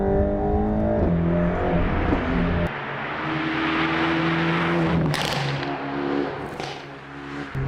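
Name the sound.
Mercedes-AMG GT Black Series exhaust accelerating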